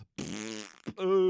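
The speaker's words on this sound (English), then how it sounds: "Can everyone stop farting?" A fart: a loud, buzzing, reedy blast lasting most of a second, followed by a short pause and a second higher, tonal squeak, close and alone.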